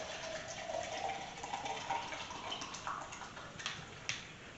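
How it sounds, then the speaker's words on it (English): Water pours from a bottle into a cup, a soft, faint gurgling splash that rises in pitch as the cup fills, ending with a few small clinks. "if I get a cup like this and open up the bottle and pour it out"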